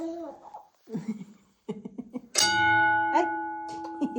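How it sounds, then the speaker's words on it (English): Talk and a child's laughter inside a gold mine, then a single loud boxing bell strike rings out with a long sustained shimmer, followed by a second fainter ring. "there's a boxing bell like this one"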